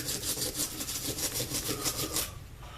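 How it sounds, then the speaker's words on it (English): A brush scrubs the inside of a Phoenix Arms .22 pistol during cleaning. About a dozen quick, rhythmic bristly strokes sound close and clear, then stop near the end, with no talk. "So grab my brush. I'm going to go ahead and clean down in here."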